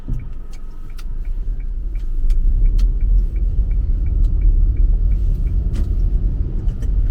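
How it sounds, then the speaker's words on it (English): A manual car pulls away from rest as the clutch comes up. The low engine rumble rises and stays strong and steady, with a regular indicator-like ticking running throughout. "So I can just smoothly take my foot off the clutch, just find the biting point for a few seconds, and then I'll be away."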